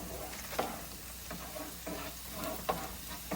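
Steady sizzle of plant-based meat frying in a pan with onions, broken by several light scrapes and clicks of stirring, fairly quiet and with no talking.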